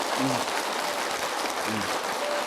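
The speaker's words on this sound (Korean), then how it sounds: "야, 박수 한번 나와야 되는 거 아닙니까?" A temple audience at Hwagyesa applauds during a Buddhist monk's sermon, a continuous even wash of clapping that stays loud and steady throughout, with faint hints of voices beneath.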